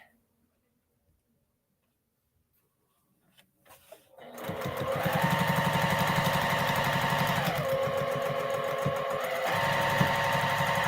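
A sewing machine stitches a seam on a baby cape, starting after a few seconds of near silence and then running in a loud, steady mechanical whir with a brief change in pace partway through.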